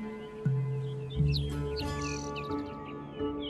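Migratory birds chirp and call in a desert nesting area, with several overlapping tweets and trills at moderate distance, set against low steady background sound.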